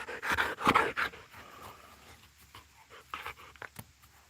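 A pet dog pants in short, quick bursts close by, loudest early and then fading into quieter breathing with a few soft huffs near the end.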